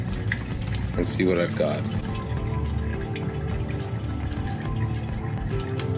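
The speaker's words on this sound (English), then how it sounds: "Then I toss the cold water on full blast" Cold tap water running from a faucet at full blast, a steady broadband rush throughout, with a brief spoken remark near the start over the flow.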